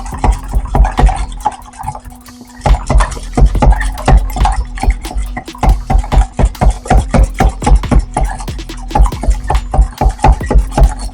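An egg is whisked in a bowl with quick, loud rhythmic taps and scrapes of the whisk. A short pause comes early, then the beating picks up again and keeps going fast and close.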